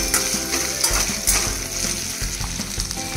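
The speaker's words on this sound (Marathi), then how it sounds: "वाटाणा चांगला तेलात परतून घ्यायचा आहे।" Green peas frying in oil over a low flame make a close, constant crackling sizzle, with scraping stirs breaking through now and then.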